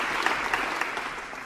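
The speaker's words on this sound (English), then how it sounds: "Clap applause for Pinnkey." Steady applause from a group, dense clapping with a few sharper individual claps standing out, continuous for the whole stretch.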